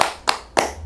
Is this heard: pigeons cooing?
no